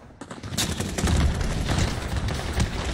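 Rapid gunfire from the online shooter game Truy Kích, a dense continuous burst of overlapping shots lasting the whole moment, loud and close with no talk over it.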